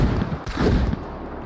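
Rapid bursts of gunfire in the survival video game SCUM, loud and close, with sharp cracks and booming reports crowding together in a quick volley before trailing off.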